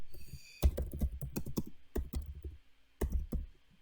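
Someone types on a computer keyboard in quick, irregular bursts of crisp clicking key presses, close-up and with short pauses between runs.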